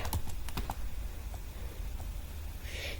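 Rapid clicking of fingers typing Python code on a computer keyboard, a burst of close keystrokes early on followed by sparser taps, with no talking.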